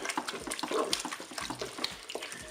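Water poured from a container into a Cookeo multicooker pot over chili con carne ingredients, a continuous close splashing and gurgling pour lasting a couple of seconds.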